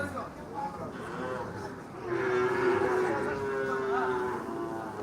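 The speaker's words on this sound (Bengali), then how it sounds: "বাছুর গরু উঠে না সব ধরনের গরু উঠে" A cow lets out a long, drawn-out moo amid a busy morning crowd murmur at the Ambari cattle market in Dinajpur, with other voices and distant animal calls in the background.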